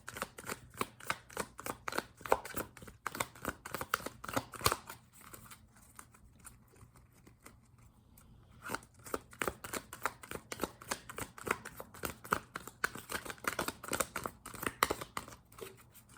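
Tarot cards being shuffled by hand: quiet, close riffling and flicking in steady bursts, with a brief lull partway through.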